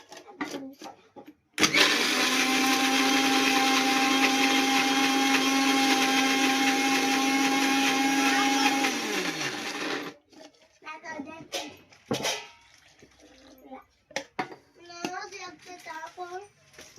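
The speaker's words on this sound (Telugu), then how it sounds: "ఇంకా ఈ విధంగా అయితే మొత్తం మిక్సీ వేసేసుకుందాము" A mixer grinder blends sesame and peanut chutney, a loud steady whir that runs for about eight seconds and winds down, followed by clinks, handling noises and a voice nearby.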